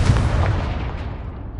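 A heavy, booming explosion from the Confringo spell in Hogwarts Legacy hits hard at the start and then decays quickly over about a second and a half.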